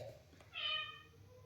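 A woman imitates a cat's meow with one clear drawn-out mew in the middle, fairly close and moderately loud against a quiet room.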